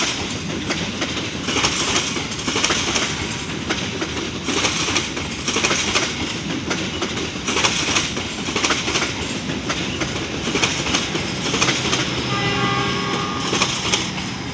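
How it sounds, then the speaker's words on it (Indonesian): Mutiara Selatan passenger train pulling into Kiaracondong station, a loud continuous rumble of wheels and carriages with clickety-clack and horn blasts over busy platform noise, no talk. "itu dia kereta api Mutiara Selatan sudah persiapan masuk ya. Persiapan merapat stasiun Kiara Condong."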